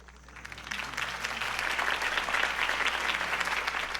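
A crowd applauds Harvey Dent's campaign speech in Telltale's Batman video game, the clapping swelling from near silence into a dense, sustained roar of many hands that holds steady to the end.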